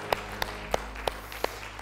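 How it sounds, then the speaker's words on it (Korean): A church congregation claps in praise, with five sharp, evenly spaced claps sounding together at moderate volume in a reverberant room, no talking over them. "하나님께 영광의 박수."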